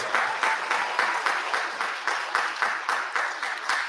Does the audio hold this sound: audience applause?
yes